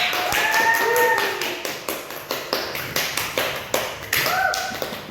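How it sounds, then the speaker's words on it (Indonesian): Students in a classroom clap for a classmate, a loose run of sharp hand claps that tapers into a few spaced claps, with a voice speaking over the start and again near the end. "tepuk tangan untuk teman"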